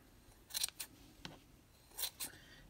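Scissors snip a yarn pom-pom in a few quiet, close crisp cuts, two paired snips then a softer one and another pair, with no talking.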